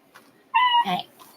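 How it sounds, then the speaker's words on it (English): A pet cat gives a single short, clear meow indoors, close to the listener, against a quiet background. "I have a cat named Cutie Pie"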